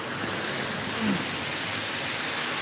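Heavy rain falls in a hilly area, a steady, dense hiss of rainfall with no breaks, fairly loud and even throughout.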